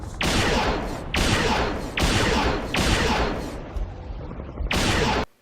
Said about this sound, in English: This thing's called a focus rifle.